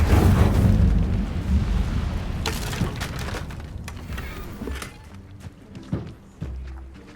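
Incendio fire spell cast in Hogwarts Legacy: a loud fiery whoosh and rumbling burst at the start that fades into crackling and scattered thuds and small impacts, with no voices.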